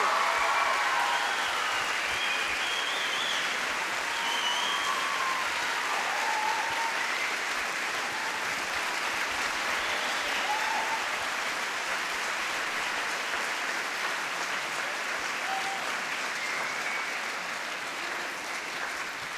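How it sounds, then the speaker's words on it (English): Sustained applause from a convention crowd at a fan event in Sydney, a broad steady wash of clapping that carries on evenly for the whole stretch with a few scattered cheers on top. "Big round of applause for Claudia"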